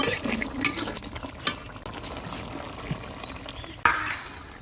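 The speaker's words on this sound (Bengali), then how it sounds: "এই যে দেন একটুখানি জল দিমু আমি" Water is poured into a pot of soft-cooked bottle gourd with prawns in a village kitchen. A brief splash comes near the start, followed by stirring and a low sizzle, with a sharper clatter near the end.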